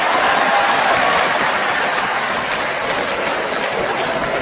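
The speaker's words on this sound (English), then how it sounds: "Oh, you clap your hands now." A church congregation claps their hands in a thick, continuous burst of applause that stays loud and even for several seconds, with no clear individual claps standing out.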